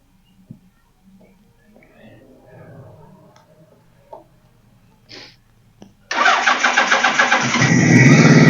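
Quiet clinks and faint voices, then a 1978 Suzuki GS1000C motorcycle engine cranks and catches after a carburetor cleaning, revving into a loud, steady idle with a rough, pulsing rhythm.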